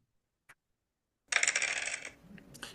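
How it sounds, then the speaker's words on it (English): Dice rolling as a sound effect in a dice video game: a tiny click, then a crisp, bright clatter that rattles for under a second and trails off into a few faint ticks, heard alone without talking. "I'm rolling my dice. It has a really crisp sound effect."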